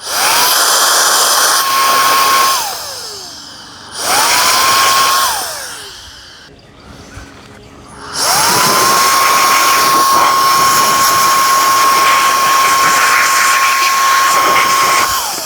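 Strong air blows through the filter of a Shark IQ robot vacuum in a loud, steady hissing whine, in two short bursts and then one long sustained blast, each winding down in pitch as the airflow stops.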